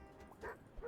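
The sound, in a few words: dog barking in airport baggage factory video game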